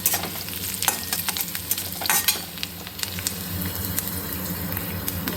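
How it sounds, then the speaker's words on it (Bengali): Prawns hit hot oil in a frying pan and sizzle in a steady, close crackling hiss, with scattered sharp pops and stirring scrapes throughout, during home cooking of pumpkin leaf and flower dishes. "চিংড়ি মাছগুলো দিয়ে দিলাম।"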